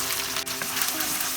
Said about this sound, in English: Now we add 1/4 cup tomato puree.